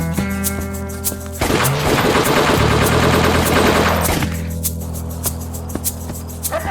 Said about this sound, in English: Somebody shoot those assholes.